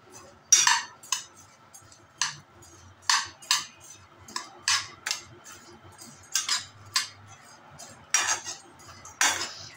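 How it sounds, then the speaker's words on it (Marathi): Repeated dry metallic scrapes and clinks of a spatula stirring sambar powder spices dry roasting in a large kadai over low heat, in an uneven rhythm, with no sizzle. "आता हेही अशा छान पद्धतीने भाजून घेऊया।"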